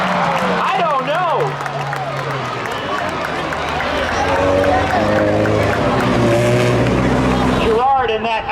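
Race cars at Seekonk Speedway roar past loudly with rising and falling engine pitch, a pack of cars droning steadily under a track announcer's continuous commentary, ending abruptly.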